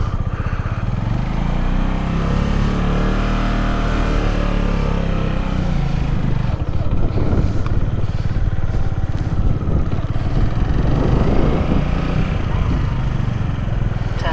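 A motorbike engine runs loud and close throughout a ride on a cold morning, a steady mid-pitched drone with clattering mechanical texture and shifting pitch as speed changes, with a rider's voice faintly over it.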